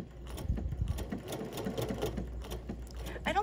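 Close, steady whirring hum and rapid needle clatter of a sewing machine stitching under foot-control speed, running continuously with no voices.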